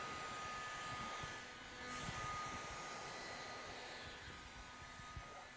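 A heat gun blows steadily over applied adhesive film, a continuous airy whoosh with a faint tonal whine, holding nearly level throughout with a slight swell midway and no voices.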